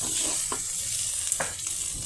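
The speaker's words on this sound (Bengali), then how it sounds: "ভাজা ভাজা হয়ে আসা পর্যন্ত এটাকে চুলায় নাড়তে হবে" Dried fish (shutki) fries in a pan on the stove, giving a continuous close hiss of sizzling oil with a few brief scraping stirs breaking through.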